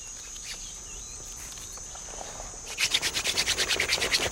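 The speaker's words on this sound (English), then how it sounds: "hand drill for fire lighting prepare everything." Wooden hand drill spun between the palms to make fire in the African Rift: quiet scratchy rubbing, then a fast rhythmic run of about a dozen squeaky friction strokes, close and fairly faint, with insects and birds faint behind.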